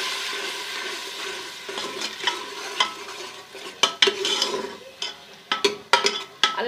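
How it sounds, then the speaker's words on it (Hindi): Onion paste frying in a pan for chicken salan, a steady sizzle with repeated scraping stirs and sharp spoon clicks against the pan, close and alone. "और इसको हम अच्छा सा फ्राई करेंगे"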